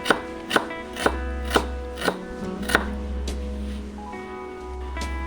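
Steady knife strokes chop onions and other coarse ingredients on a board for Aceh fried chicken, about ten crisp close chops at an even rhythm, with no talking.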